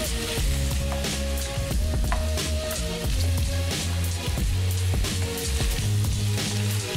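Steak sizzling and frying in olive oil for a stir-fry over rice, a steady loud crackle throughout with soft stirring clatter and a low pan rumble, no talking.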